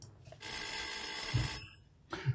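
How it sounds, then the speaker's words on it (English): A doorbell rings during a live morning broadcast: an electronic ringing tone sustained for about a second, fairly faint, with short low thumps near its end and a brief burst after a pause. "Yes, and the doorbell's going."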